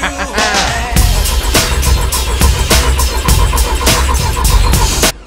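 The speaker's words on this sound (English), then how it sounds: "this is just to see if the thing will turn over now" A VW T4 Transporter engine, built to over 500 bhp, cranks on its starter motor with no fuel, giving a steady, rhythmic chug of repeated turnover strokes that stays loud and close for about five seconds before cutting off.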